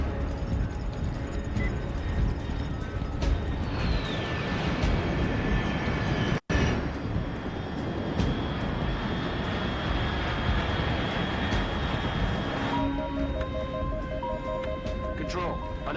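Aircraft engine in a GTA roleplay video game, a steady loud droning roar that carries on throughout, with voices speaking over it.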